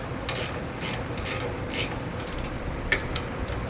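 A 5/8 wrench ratchets to snug nuts with lock washers onto the mounting bolts of a 10-inch trailer brake assembly, giving quick bursts of rapid clicking, close and clear over a steady background hum.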